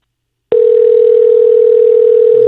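A telephone line tone starts abruptly and holds as one steady, loud, unbroken pitch with no pauses, heard alone without any talking.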